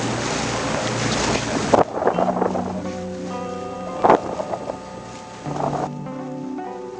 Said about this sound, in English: Boat doing 10 knots off our port bow coming towards us